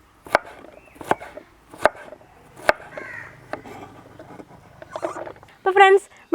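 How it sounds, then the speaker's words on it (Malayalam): A kitchen knife chops banana stem into small pieces on a board, sharp separate thwacks spaced about a second apart, close and loud, with a voice talking quietly between strokes. "അപ്പോൾ ചെറുതാക്കി അരിയട്ടെ കേട്ടോ"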